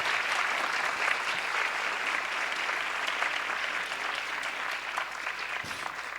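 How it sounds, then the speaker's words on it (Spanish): Sustained audience applause at a seminar on the right to water and climate change, steady dense clapping filling the whole stretch at an even level with no voices. "Pido un aplauso para todos ellos,"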